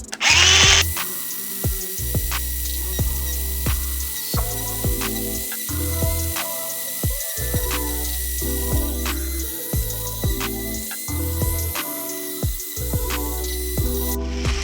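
An electric herb grinder runs continuously for the whole stretch, a steady motor whine with repeated small bursts and catches as the herbs are chopped, close and fairly loud with no talk.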